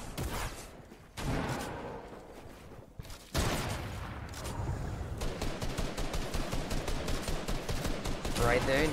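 Shotgun fire in a video game, with repeated rapid shots that grow into a dense, steady stream of gunfire, mixed with game noise and faint talk.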